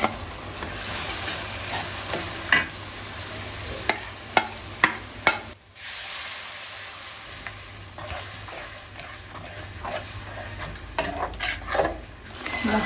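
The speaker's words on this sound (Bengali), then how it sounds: "মশলা কষানো হয়ে গেছে" Onion and spices sizzle in a pan for a raw jackfruit curry: ginger, garlic, cumin, coriander, turmeric and chili. Close frying with a steady hiss, broken by repeated clinks and scrapes of a spoon stirring against the pot.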